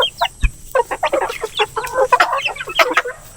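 A flock of native chickens clucking busily at feeding time, with dense overlapping clucks and squawks, loud and close, plus a sharp knock partway through.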